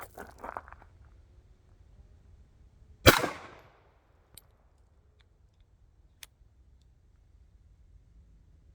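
A single sharp report from a Romanian Beretta 1934 pistol fired at a steel target outdoors, loud and brief with a fading ring, followed by faint distant clicks.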